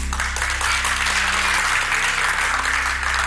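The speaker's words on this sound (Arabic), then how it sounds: "الجمهور بيسقف ومتفاعل معاك جدا" Studio audience applauding on an Egyptian TV quiz show, a steady, dense wash of clapping held at constant loudness throughout with no talk over it.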